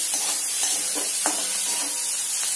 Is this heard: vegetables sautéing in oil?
yes